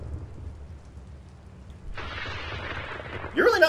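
Rain and rolling thunder from a thunderstorm in the VR horror game Sisters, a low rumble building into steady rain hiss with a sharp crack near the end.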